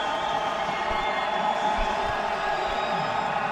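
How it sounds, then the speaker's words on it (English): A cricket crowd in Multan cheers Babar Azam reaching fifty in a Test match, a steady, distant roar of many voices that holds at an even level throughout. "And the crowd are right in this"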